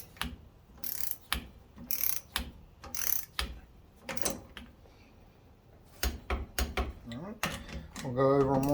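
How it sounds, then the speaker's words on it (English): Torque wrench tightening brake bolts to 38 foot-pounds on a 1990–93 Honda Accord front brake job, a string of sharp ratcheting clicks coming in close bursts with short pauses between them, and a voice joining near the end. "And I got my torque wrench set up here."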